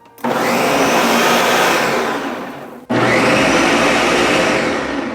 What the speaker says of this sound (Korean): 이렇게 믹서기를 이용해가지고 깔아줍니다